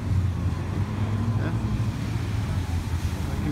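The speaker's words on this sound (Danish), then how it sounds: "Der kan vi så høre, der er en, der har dobbelt motor" A twin-engine motorboat passes off Pattaya's Jomtien beach in Thailand. It produces a steady low engine drone with wind buffeting the microphone, continuous and moderately loud for the whole stretch.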